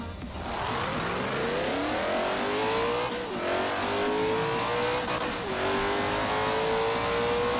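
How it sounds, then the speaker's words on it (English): A 1964 Ford GT in the Forza Horizon 4 racing game revs loudly and steadily, its engine note sweeping up through gears with brief dips at shifts, continuous and close with no talking. "I'm using this Ford GT 1964. Yeah, it's a 1964 model."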